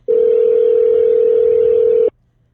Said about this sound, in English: Wow, and that's a loud ringer.